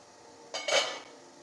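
Metal clinks sharply as a steamer lid is lifted and kozhukattai dumplings are taken out, a short burst of clattering utensils and pot against a quiet background.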